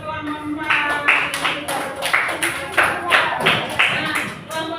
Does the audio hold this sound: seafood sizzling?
no